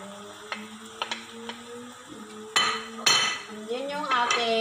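A utensil stirs onion and tomato in a pan, with scattered clinks and scrapes against the metal and a faint sizzle underneath, growing busier toward the end.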